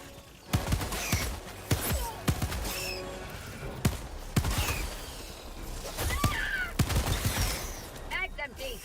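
Gunfire in the video game Helldivers crackles in bursts of sharp shots, layered with in-game voices and effects, loud and busy throughout.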